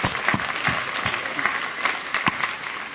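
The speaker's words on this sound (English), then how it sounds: "join me real quickly in giving all these guys a round of applause" A round of applause from the crowd at a livestock judging contest, brisk and fairly loud, with scattered louder claps standing out over about three seconds.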